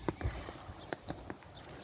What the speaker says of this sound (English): Oh, there's some more horses.